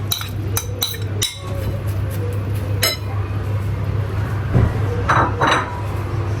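Bright clinks of a utensil against a small glass bowl while ingredients are mixed, several sharp taps in the first few seconds over a steady low hum, then softer scraping.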